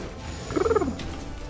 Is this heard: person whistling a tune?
no